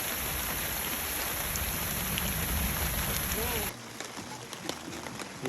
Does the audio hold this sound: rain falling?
yes